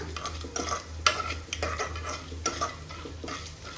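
Chana dal fries in a pan while a spoon stirs it repeatedly, making close scraping and clinking strokes in an irregular rhythm over a light sizzle.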